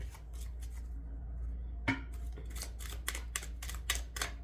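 Oracle cards being shuffled by hand, a quick run of crisp riffling flutters and soft slaps, close and clear over a low steady hum, starting after a brief quiet pause.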